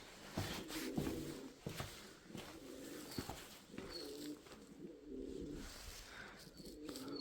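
Pigeons cooing at Bhangarh fort, soft low throaty coos repeating intermittently over faint outdoor ambience and distant rustle, quiet and unhurried, with no talking.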